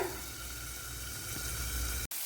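Small onions fry in a pan for a curry, giving a steady, close hiss of sizzling oil that holds evenly, then cuts off abruptly just before the end.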